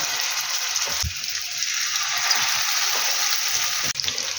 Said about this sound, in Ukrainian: буду зараз смажувати з однієї сторони, а потім з другої сторони